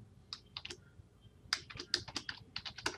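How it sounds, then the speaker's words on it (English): Quick keystrokes on a computer keyboard while a command is typed, in two short flurries of light, close clicks separated by a pause, with no talking. "let's type one more command"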